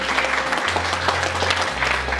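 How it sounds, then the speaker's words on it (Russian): Guests at a wedding banquet in a restaurant hall applaud the mothers, a brief, close burst of steady clapping over a low background hum. "я хочу, чтобы прозвучали аплодисменты нашим мамам"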